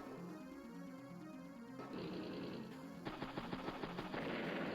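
Units attacking in battle in the video game Advance Wars: Days of Ruin, with rapid bursts of synthesized gunfire and machine-gun rattle over electronic battle music, dense and continuous, with no talk.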